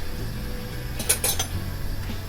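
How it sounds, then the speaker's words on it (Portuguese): Fresh homemade pasta, taken from a drying rack, is dropped into a pan for Alfredo sauce, giving a few brief clinks and rustles midway over a low steady background hum. "Vamos pegar toda a massa aqui que eu tirei do varal transferir para a panela"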